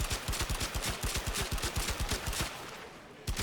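Rapid automatic weapon fire from the sci-fi shooter game Warframe, a steady stream of sharp close shots for about two and a half seconds before stopping, followed by a quieter pause and one more burst.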